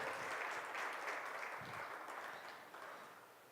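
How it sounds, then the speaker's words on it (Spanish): A church congregation applauds together during a worship service, a broad continuous wash of clapping from many people that fills the space and slowly fades toward the end. "Den un aplauso al Señor Jesucristo."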